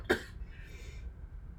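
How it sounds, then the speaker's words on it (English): A woman gives one sharp, close cough, then quiet room tone follows. "Let me get a good cough in,"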